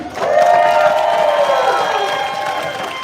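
A crowd at a student protest over a mandatory booster shot at Western University cheering and whooping loudly, voices swelling early then slowly tapering over a few seconds.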